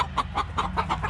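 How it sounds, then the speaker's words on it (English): Hens on a backyard egg-laying setup cluck in a steady, evenly spaced rhythm of short calls, about five or six per second-long stretch, close and fairly loud, with a rooster vocalizing among them. "And the rooster's talking."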